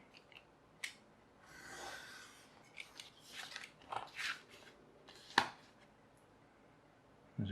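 Scissors snip and rub through a paper or light material model wing, producing sparse, faint cuts and scraping touches at an uneven pace in a quiet room.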